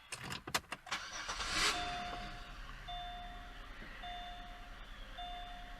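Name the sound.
2006 Pontiac G6 engine starting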